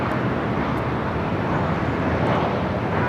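A WestJet airliner taking off from runway 24 left at Los Angeles LAX airport, a steady, loud, broadband jet roar that holds at an even level throughout, with no voices.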